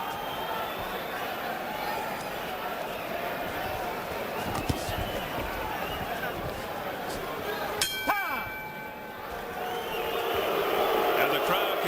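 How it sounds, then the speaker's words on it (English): Boxing arena crowd at a Hector Camacho Jr vs Phillip Holiday bout, a steady loud wash of booing and jeering that runs throughout, with a few sharp clanks near the middle and a commentator talking over it. "And the crowd continues to voice its disapproval."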